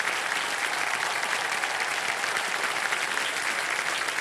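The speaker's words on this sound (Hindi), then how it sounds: "तो जोरदार तालियों से स्वागत कीजिए" Studio audience on the TV quiz show Kaun Banega Crorepati claps in a steady, dense burst of applause, loud and continuous throughout with no talking.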